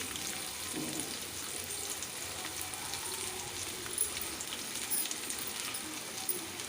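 Chopped onions and green chillies fry in oil with mustard seeds and chana dal, a soft continuous sizzle heard faintly and alone, with a few small crackles and no voices.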